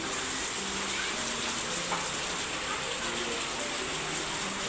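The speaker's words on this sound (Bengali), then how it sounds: "এতক্ষণ ধরে অনেক বৃষ্টি ছিল অনেক অনেক হঠাৎ করে বৃষ্টিটা নামছে" Heavy rain falling steadily outside a home in Bangladesh, a dense, even rush of hiss that holds at a constant level with no break for the whole stretch.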